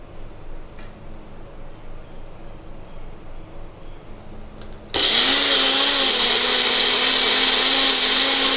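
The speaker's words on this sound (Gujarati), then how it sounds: "હવે આપણી પાલક ઠંડી થઈ ગઈ છે, આપણે તેની પ્યુરી કરી લઈશું." A blender purees cooled spinach, starting abruptly about halfway through with a loud, steady high-pitched whir and motor whine that keeps going to the end, after a quieter stretch of room noise.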